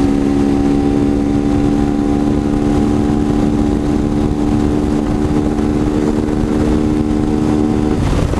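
A vehicle engine hums steadily and close by, sounding like a motorcycle or small engine, holding an even pitch with no clear rise from acceleration and no voices.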